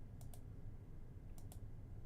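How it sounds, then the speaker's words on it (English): Faint computer clicks come in two quick pairs against a low steady background hum, soft and close, with no talking. "I'm just going to keep clicking until we get there."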